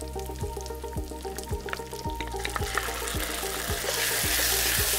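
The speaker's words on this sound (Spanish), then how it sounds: "agregar nuestras almendras para que se cocinen primero. Con mucho cuidado para que no se nos quemen." Almonds and garlic fry in a pan with a steady, close sizzle and crackle, punctuated by regular rhythmic scraping or stirring clicks, the hiss growing brighter and louder toward the end.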